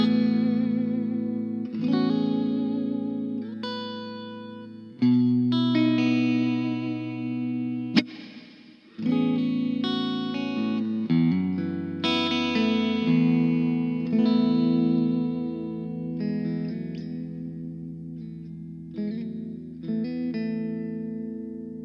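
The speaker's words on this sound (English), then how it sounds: "We have just a standard reverb here." Electric guitar played through the standard reverb setting of a Boss Katana Mini X amp: chords and single notes ring out with a lingering wash of reverb tails, steady and fairly loud, with brief pauses between phrases and no voices.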